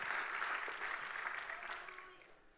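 A church congregation claps in applause, a dense steady patter of many hands that fades gradually toward the end, heard fairly far off in a large room.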